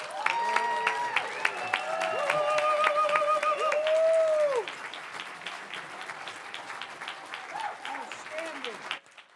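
An audience at an annual benefit evening for L'Arche Noah Seattle applauds, a broad wash of clapping under sustained tonal music-like sounds, then thinning and fading out.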